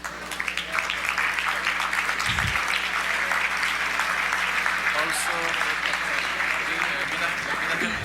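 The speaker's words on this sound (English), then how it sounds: "I want to give an applause to Team Digital Evolution" An audience at an awards stage event applauds, sustained dense clapping filling the room for the whole stretch, with a voice speaking over it at times.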